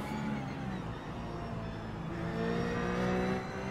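Ruf race car engine in iRacing at VIR, held on throttle with a steady sustained drone and rising harmonic tones as the driver rolls on the gas, loud and continuous with no talk.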